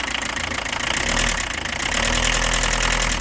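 A close engine idles steadily with a fast, even chug and a faint metallic rattle underneath, growing slightly louder partway through.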